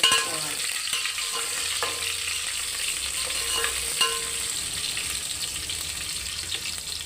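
Ingredients for bhagara rice are stirred in a hot pan, a continuous frying sizzle with occasional scraping knocks of the spoon, close and steady throughout.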